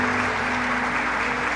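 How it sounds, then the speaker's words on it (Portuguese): A church congregation applauds in a dense, steady burst of clapping that fills the whole room, with no voices over it. "dê uma salva de palmas a Jesus nessa hora"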